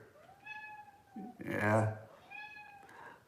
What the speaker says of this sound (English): If you're hearing my cat in the background, she's making noise.